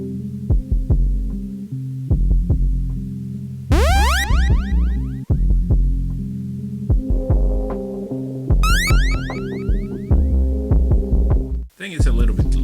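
A beat plays back from a Roland SP404 MK2 sampler: loud, steady thumping drum hits with sustained low bass tones and swept, pitch-bending synth fills recurring at intervals.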